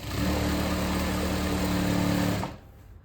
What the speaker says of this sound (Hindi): अब फिर मैं यहाँ तक प्लेन सिलाई करूँगी।